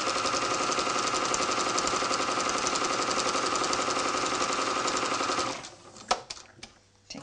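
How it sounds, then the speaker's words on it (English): A sewing machine runs steadily for about five seconds, stitching just outside the fabric binding on a small pocket tissue holder, then stops, leaving a few faint clicks and handling sounds. "So here I'm just sewing just outside the binding."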